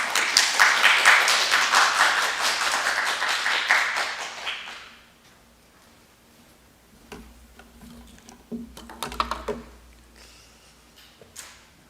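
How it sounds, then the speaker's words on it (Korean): An audience at a university lecture hall at Daejeon University applauds to welcome a visiting professor, a loud burst of clapping that fades out after about four seconds, followed by sparse taps and small handling noises. "여러분 박수를 부탁드립니다."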